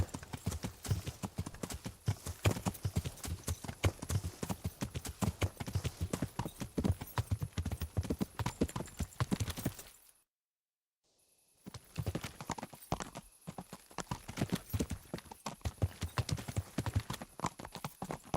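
Horse hooves in Kingdom Come: Deliverance clip-clop in a fast, steady gallop rhythm, loud and close, broken by a second of total silence before the hoofbeats resume.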